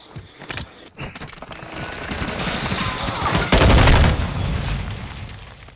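Bursts of automatic gunfire and shots in a hardcore free-for-all match of Call of Duty: Modern Warfare 2 on PS5, starting sporadic then building into loud, dense rapid fire with booming impacts.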